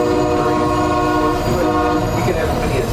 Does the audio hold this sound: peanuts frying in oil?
no